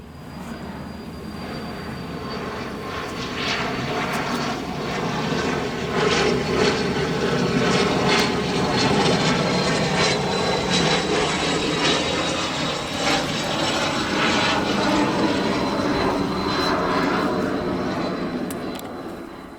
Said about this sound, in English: Cirrus Vision SF50, aka the Vision Jet. It's a single-engine, very light personal jet